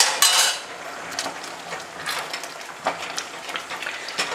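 A spoon stirs risotto alla Milanese in a pot as broth is ladled in, making intermittent scraping and clinking against the metal, close and fairly quiet, with no one talking.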